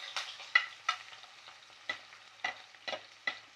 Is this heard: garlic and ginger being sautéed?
yes